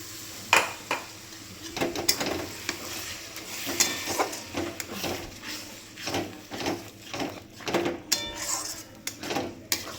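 Chicken masala is stirred and sautéed in a pan after spice-rinse water is added. Rhythmic scraping and clanking of a spoon against metal recurs in quick bursts over a faint sizzle, close and fairly loud.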